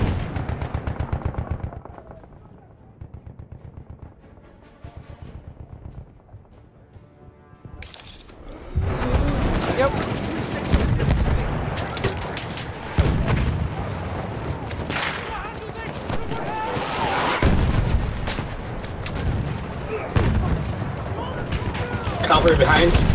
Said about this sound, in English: bomber's on us. Enemy bomb!